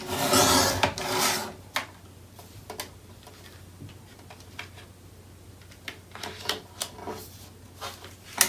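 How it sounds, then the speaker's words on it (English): Stacked paper sheets are trimmed at once, giving a rasping, rubbing cut at first, then scattered light ticks and taps nearby. "I'm gonna stack these on top of each other, and then I'm gonna trim them at the same time."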